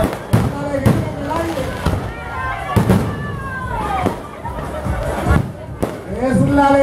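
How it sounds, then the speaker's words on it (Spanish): Fireworks bursting over a nighttime pageant celebration in the town of Arroyo, Puerto Rico, a string of loud booms and crackles spaced about a second apart, with crowd noise beneath. "adornando el cielo los fuegos artificiales."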